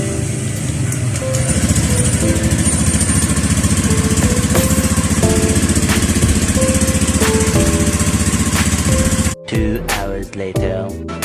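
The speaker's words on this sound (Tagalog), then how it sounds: "papaandarin na natin yung ating motor ulit" Honda Beat scooter engine idling steadily and close for about nine seconds with a buzzing mechanical drone, then cutting out abruptly, followed by brief clunks and handling noises.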